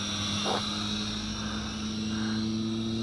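Eachine E708 toy drone, a Bugs2 clone, flying in beginner's rate with propellers giving a steady high buzzing whine that rises and falls slightly with throttle changes, continuous throughout.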